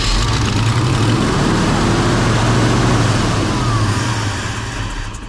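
A 1968 Ford F100 truck engine runs with a loud, steady low rumble close by, then eases slightly toward the end.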